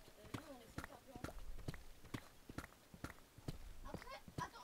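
A horse walks in Minecraft, its hooves clip-clopping in an even rhythm of about two steps per second, fairly close. Someone speaks French now and then over the steps.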